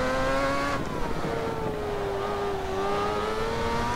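High-pitched 2009-spec Formula 1 Cosworth V8 in a Lotus T125 Exos in Assetto Corsa, screaming close up, with pitch falling on a gear change and then climbing steadily as it revs again.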